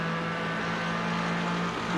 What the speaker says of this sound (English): Yeah, there's the engine.